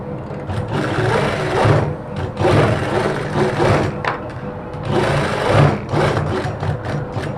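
A sewing machine stitches a side pocket onto a kameez, running in steady mechanical bursts with brief pauses between runs, close and fairly loud, with no voices over it.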